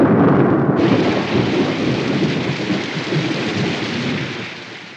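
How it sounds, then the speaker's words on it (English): Heavy rain pours steadily while thunder rumbles through it, forming a dense, loud, unbroken storm wash that holds from start to finish with no voices. "Could be raining."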